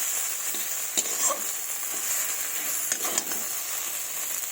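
A bean sauce frying in a pan and being stirred: a continuous close sizzle with scattered scraping knocks from the utensil, moderate and steady throughout, no voices.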